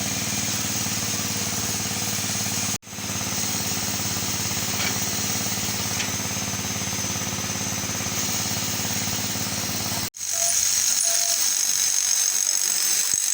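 A generator engine at a bridge works site in Mirpur, powering a pipe that pumps water out, gives a steady mechanical drone with a low hum. The sound cuts out briefly near the start and again near the end before resuming.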